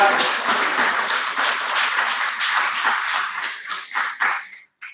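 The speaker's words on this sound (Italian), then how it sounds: "Facciamo di nuovo un applauso alla nostra giuria." A seated audience at an awards closing ceremony applauds the jury with a continuous wash of clapping that breaks into scattered claps and stops abruptly.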